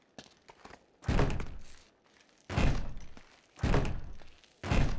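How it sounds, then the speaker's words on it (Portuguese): A heavy door is shoved open in Uncharted 3, a series of four deep, loud thunks spaced about a second apart, each with a dull low boom and a brief scrape before fading. "Vamos, Sally, me dá uma ajuda com essa porta"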